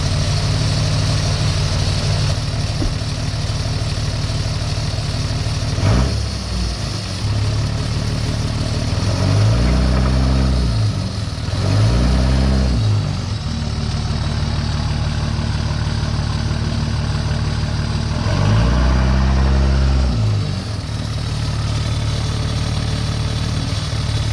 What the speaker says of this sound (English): That alternator does not sound happy